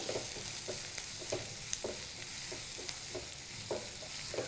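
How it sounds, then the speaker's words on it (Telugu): Chopped onion pieces sizzling in hot oil for a capsicum tomato curry, with a steady fry hiss and repeated soft scrapes of stirring at a regular pace. "ఉల్లిపాయ ముక్కలు వేసి ఆయిల్లో బాగా కలపాలి"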